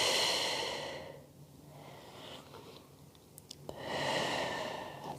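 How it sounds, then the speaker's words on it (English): During a standing Pilates stretch, a person takes slow deep breaths close by: a long breathy inhale, a quiet pause with faint rustles, then another full airy exhale. "Take a couple of big rounds of breath there."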